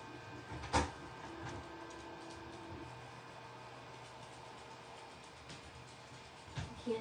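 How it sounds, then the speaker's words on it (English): A home printer runs quietly with a faint steady mechanical hum, broken by a sharp click near the start and a couple of small knocks near the end. "I'm going to stop my printer."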